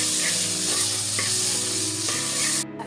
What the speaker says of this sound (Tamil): மீடியம் சைஸ் 2 தக்காளி போட்டு வதக்கிடலாம்